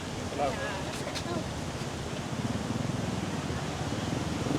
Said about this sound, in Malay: Oh, ombak dia besar guys.